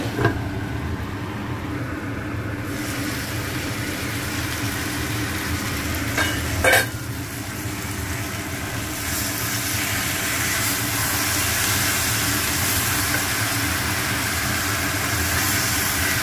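Malabar spinach simmers under a lid on a gas flame turned low. A soft, steady bubbling hiss runs throughout, a brief clatter comes near the middle, and the cooking noise grows a little fuller toward the end.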